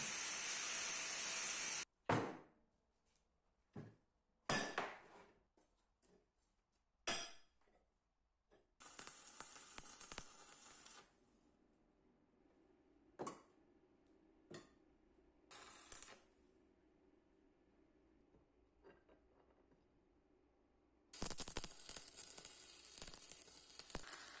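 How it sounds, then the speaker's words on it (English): Steel flat bars for a forging press ram being cut and welded, with bursts of harsh crackling and sizzling broken by short sharp taps and long quiet gaps, a sustained loud crackle returning at the end. "I cut flat bars the right size and weld them together"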